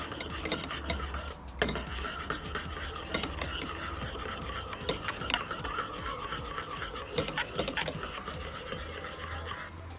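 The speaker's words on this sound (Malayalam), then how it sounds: "അതേപോലെ തന്നെ സ്ട്രോബെറിയുടെയും ഒന്ന് മിക്സ് ചെയ്ത് കൊടുക്കുകയാണ്" Strawberry ice cream mixture being stirred in a bowl, a continuous close scraping and rasping of a utensil with small irregular clicks, no voices.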